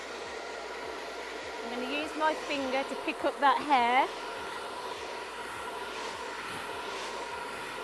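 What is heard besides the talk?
hairdryer blowing on medium heat fast speed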